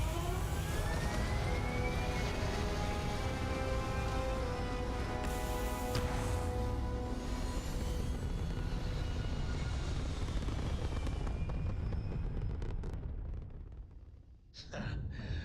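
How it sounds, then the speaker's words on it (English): Spaceship thrusters fire in Starfield with a loud, sustained engine roar and rising whine that builds steadily and cuts off abruptly near the end, leaving a brief quiet tail. "All thrusters firing."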